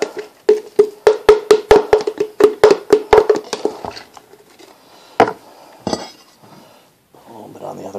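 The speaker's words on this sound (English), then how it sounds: "a nice coat of peanut butter" A knife spreads peanut butter over sandwich bread, a quick series of sharp scraping and tapping strokes up close that thin into a few sporadic knocks and clinks.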